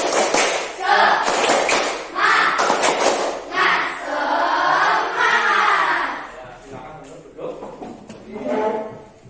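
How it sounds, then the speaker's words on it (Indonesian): A standing class performs a rhythmic spirit clap, loud patterned bursts of claps alternating with voices chanting and shouting in unison. "Tepuk semangat."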